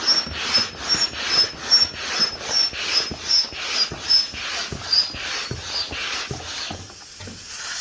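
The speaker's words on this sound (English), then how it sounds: "that noise is just the valve closing" The inflation valve of a Takuma RS wind wing closes during pumping, giving a rhythmic series of breathy, wheezing air pulses with faint high squeaks, close and alone, easing off at the end.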